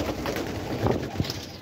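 Pigeons coo softly and repeatedly, close by, with a low throaty rhythm over faint background noise.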